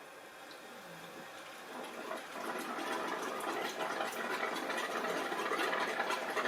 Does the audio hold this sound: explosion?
no